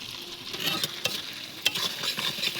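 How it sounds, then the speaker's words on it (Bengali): Onions fry in hot oil in a pan while being stirred, a close bright sizzle punctuated by quick scraping stirs and soft pops, with no talk. "পেঁয়াজটা হালকা ভাজা করে নেব"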